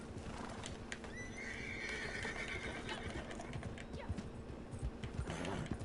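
A horse in a video game whinnies in a long rising then falling neigh near the start, with hoof clip-clops and busy background game noise throughout.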